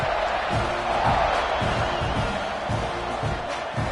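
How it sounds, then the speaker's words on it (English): Stadium crowd in an NCAA college football video game after a touchdown, a loud, steady roar of many voices with rhythmic pulses, as though chanting or stomping, filling the whole stretch. "this crowd is buzzing after that last score"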